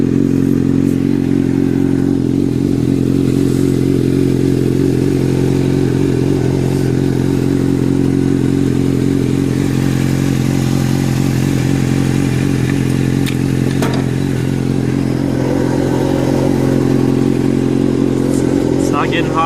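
A 2005 Suzuki GSX-R750 engine with low mileage idles steadily up close, its low drone holding even and continuous throughout with faint clatter riding on top.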